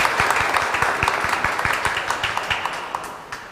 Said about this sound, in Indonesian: Tepuk tangan untuk pihak konduktor kita